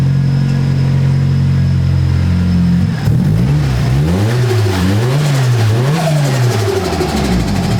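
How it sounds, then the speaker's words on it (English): A car engine idles steadily while warming up, running rich, then revs up and down repeatedly in a rhythmic pattern, loud and close. "I think it's running more rich when it's warming up. You want to hear it?"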